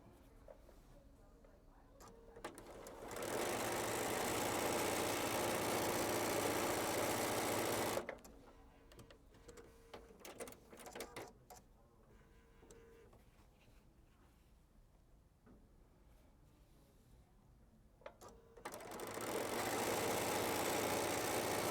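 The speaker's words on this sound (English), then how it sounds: "and then I'll sew my 2 sides on." A sewing machine joins quilt pieces in two long steady whirring runs, one early and one at the end, separated by a quieter stretch of handling and rustling fabric, close by with no one talking.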